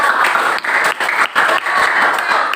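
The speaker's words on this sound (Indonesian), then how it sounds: "kita berikan tepuk tangan untuk kelompok 3." An audience in a classroom teaching session applauds a student group, with steady clapping broken by brief dips, close and fairly loud.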